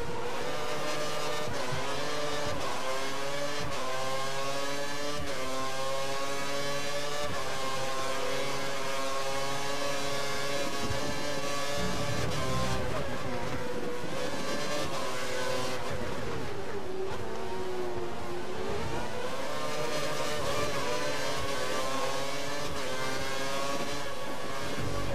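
Formula 1 race car engines in the F1 2013 game scream continuously, loud high-pitched revving that rises and drops through gear shifts and braking for a long stretch.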